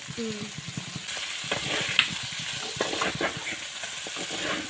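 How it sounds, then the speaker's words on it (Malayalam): Chicken coated in masala fries in a pan, a steady close sizzle broken by repeated scraping and clinking stirs throughout. "ഇനി ഇതിങ്ങനെ മിക്സ് ചെയ്ത് മിക്സ് ചെയ്ത് ഫ്രൈ പോലെ ആക്കി എടുക്കും"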